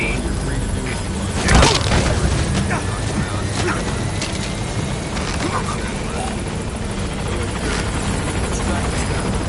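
The Pequod helicopter in Metal Gear Solid V arriving at a landing zone, its rotor and engine roar loud and continuous, with a heavier burst near the start and a voice speaking over it.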